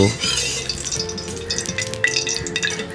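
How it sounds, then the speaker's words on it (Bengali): White oil heating in a hot wok while being stirred, a close scraping of the spatula against the metal over a low sizzle, with faint clinks throughout. "এবারে ভালো মতো নাড়াচাড়া করে তেলটাকে একটু গরম করে নেব"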